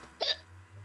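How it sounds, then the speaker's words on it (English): A single short hiccup, a quick voiced catch lasting a fraction of a second, close and fairly soft over a low steady hum. "hiccups."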